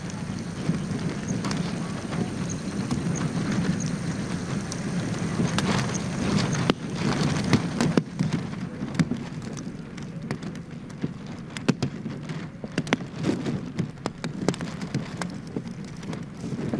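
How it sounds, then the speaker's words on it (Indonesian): Rain falling at Halim Perdana Kusuma airport in Jakarta during a presidential arrival: a steady, dense patter with scattered sharper crackling drops, fairly loud and continuous throughout. "Hujan."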